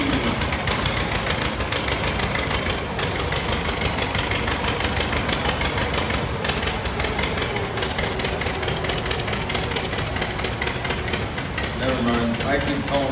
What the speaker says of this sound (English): On the big sled, we got Wayne Hoyle, 1952 John Deere T.